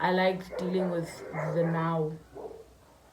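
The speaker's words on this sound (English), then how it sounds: "Please excuse the noise outside. My dogs are having a party, obviously." Dogs bark outside a home, intermittent and somewhat distant, under a person talking steadily close to the microphone.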